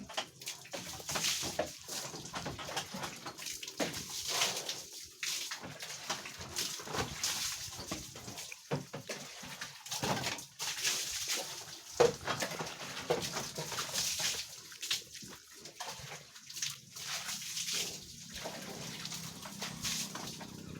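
A mother pig being washed with water before deworming, a steady wash of splashing and hissing spray mixed with grunts and farmyard bird calls, continuous and moderately loud throughout.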